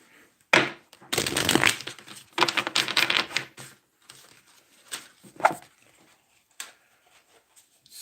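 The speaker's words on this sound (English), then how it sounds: "Let's shuffle these cards." A deck of tarot cards being shuffled by hand in a series of rustling, riffling bursts, loudest early on, then thinning to a few sparse, quieter flicks and taps with no talking.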